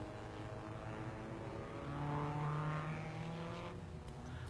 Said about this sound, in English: here's Englishman Roy Salvadori in his Formula 2 Cooper Climax